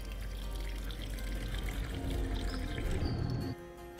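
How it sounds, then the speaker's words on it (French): Waste water pours steadily from the built-in grey-water tank of a camper van, emptied from outside; a continuous gushing flow that cuts off sharply near the end. "Vous la vidangez par l'extérieur."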